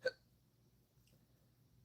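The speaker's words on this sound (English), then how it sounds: "Got hiccups. Got to get rid of these real quick." A single sharp hiccup bursts out near the start, close and clear, followed by near silence with only faint low background hum.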